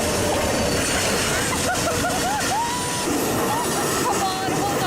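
A train rumbles past close by with a steady roar and high squealing wheels, while excited voices shout over the noise.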